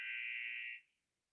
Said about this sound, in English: you may hear a little buzzer in the background occasionally because there is a game happening right now